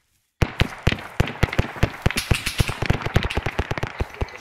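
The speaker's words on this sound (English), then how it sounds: "Shots are close" Rapid bursts of nearby gunfire during a special forces training exercise, dozens of sharp loud cracks in quick irregular succession after a moment of silence, with no talking.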